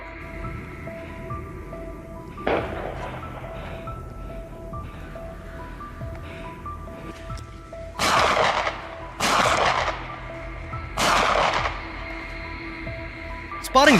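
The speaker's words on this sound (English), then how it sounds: "a decisive gunshot rang out" Gunfire aimed at a feral boar in a Turkish field, several loud sharp shots cracking out at intervals over a quiet background with a faint tone, while a narrator speaks.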